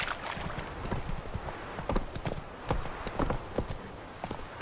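Hooves of Geralt's horse Roach clip-clopping in The Witcher 3: Wild Hunt, a steady rhythmic trot of distinct close hoof strikes on ground, with a faint gear jingle and no speech.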